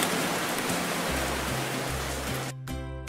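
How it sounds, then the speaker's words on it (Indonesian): Acid rain pours down in a steady, dense hiss that fills the scene and stops abruptly near the end, giving way to a soft musical tone. "Terus, turun hujan asam."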